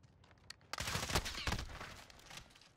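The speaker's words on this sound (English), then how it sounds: "I was using the Galil semi-auto version" Galil semi-automatic rifle firing in a Modern Warfare Search and Destroy match, a quick cluster of loud overlapping gunshots after a single early crack, trailing off into quieter echoes.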